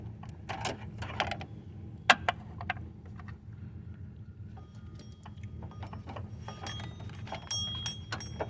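Long extension ratchet with a 15 mm socket working on an Acura MDX serpentine belt pulley, giving irregular light clicks, ratcheting ticks and metallic taps close by over a low steady hum, with no talking.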